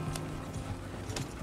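Horse hooves clip-clop at a steady walking rhythm in Red Dead Redemption 2, several animals moving together at moderate distance over a continuous outdoor ambience, with no talk.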